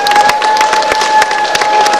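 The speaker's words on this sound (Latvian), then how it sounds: "Aplausi!" An audience applauds with dense, steady clapping at a Latvian speech event, loud and continuous with no talking over it.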